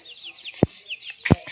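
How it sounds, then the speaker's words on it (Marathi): Chicken chicks give high, thin cheeps in quick runs, close and fairly loud, broken by two sharp low knocks. "हे कोंबडीचे पिलं आता कोंबडीचे पिलं म्हणते"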